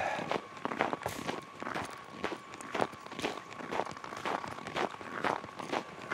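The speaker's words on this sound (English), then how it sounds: "You can hear how the snow sounds under my feet. It sounds dry." Footsteps crunching on dry snow at a steady walking pace, close and fairly quiet, with a faint constant tone behind them.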